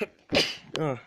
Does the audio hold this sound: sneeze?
yes